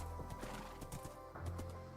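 Steady hooves clop rhythmically as a horse is ridden in a video game, with a soft whinny and quiet game ambience underneath, fairly faint overall.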